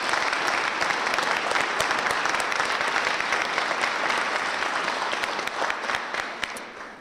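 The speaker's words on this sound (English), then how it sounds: "could we have a round of applause for our family members and spouses?" At a mayoral inauguration ceremony, an audience breaks into steady, full applause, a dense wash of clapping that holds for several seconds and fades slightly toward the end.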